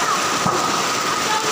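Heavy rain pouring down steadily beside the sea, a dense continuous hiss with a brief low thump partway through.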